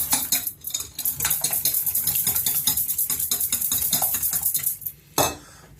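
A utensil stirs keto bread batter in a bowl, giving rapid, rhythmic scraping and clinking strokes that continue steadily, close and fairly loud, with a sharper knock near the end.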